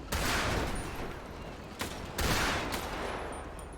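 Heavy bursts of gunfire in a police roleplay video game, two loud sustained volleys separated by a short pause, close and dominant with some muffled background voice.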